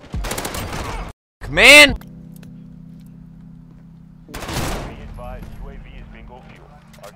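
Shotgun blasts in Call of Duty: Modern Warfare (2019) multiplayer, a sharp loud shot then another heavy blast a few seconds later, with someone shouting in frustration between them.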